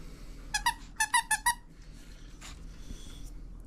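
Several quick squeaks from a squeaky dog toy during a grooming session, two short then four in a fast burst, fairly close, followed by soft rustling and quiet breathing.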